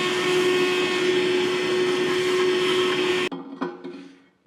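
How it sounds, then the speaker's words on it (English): A shop vacuum cleaner sucking debris from the base of a Sellers 6G drill grinder, a loud steady roar with a constant whine that cuts off abruptly and leaves faint clunks and rattles, with no talk. "I'm going to vacuum out this thing"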